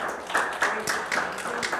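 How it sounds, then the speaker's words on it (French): Congregation applauding the Lord during a French-language church service, a broad wash of many hands clapping together in a hall, steady and fairly close, with voices faintly mixed in. "Oui, applaudissons le Seigneur pour ça."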